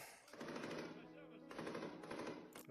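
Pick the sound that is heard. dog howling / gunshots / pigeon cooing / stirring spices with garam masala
gunshots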